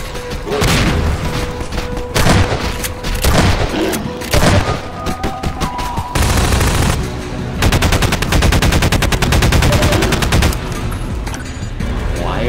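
Glitched gunfire in Half-Life 2 hammers out in loud stuttering bursts, rapid automatic shots broken into choppy repeated chunks with heavy booms between them, all close and harsh.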